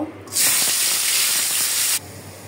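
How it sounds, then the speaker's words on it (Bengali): Stinging catfish frying in a pan for a banana curry: a sudden loud hiss of hot oil rises, holds steadily for about a second and a half, then cuts off. "এখন আমি কলা তরকারির জন্য মাছটা একটু ভেজে নিব।"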